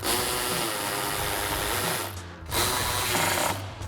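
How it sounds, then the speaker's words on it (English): Power driver with an 8mm socket tightening screws on a rear shock mount of a Jeep Wrangler JL during a Bilstein B8 5100 shock install: two sustained whirring runs, the second starting after a brief pause, loud and close, without speech. "we'll come back in with our 8mm socket and tighten those down"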